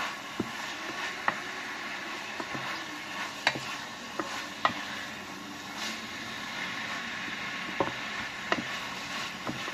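Sirloin fries in a pan with onion and salt, giving a continuous close sizzle with scattered sharp pops and crackles throughout, no voices over it.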